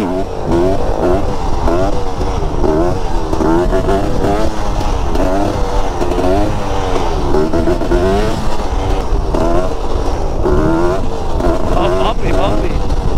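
A big 500 supermoto motorcycle rides across a bumpy off-road section, its engine droning and revving loudly and close throughout, while a rider speaks over the engine noise.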